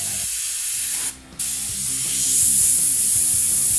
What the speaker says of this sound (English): Come in with the airbrush and just soften it up.